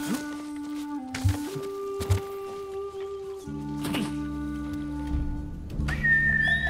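A player's call whistle summons a horse in Ghost of Tsushima, heard as steady tonal whistle notes that shift pitch over faint game ambience and footsteps, fairly quiet.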